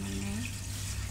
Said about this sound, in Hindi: अब इस टाइम पे मैं इसके अंदर पानी ऐड कर रही हूँ 1 जग